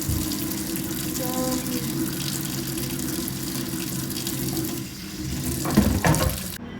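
Tap water pours steadily into a kitchen sink as strawberries are rinsed, a continuous close splashing rush with a few clatters near the end.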